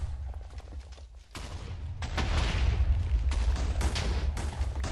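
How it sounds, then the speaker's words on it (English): Loud, continuous barrage of explosions in the Minecraft modpack Project Ozone 2, a quieter rumble swelling into dense overlapping booms that keep rolling without pause. "Explosions!"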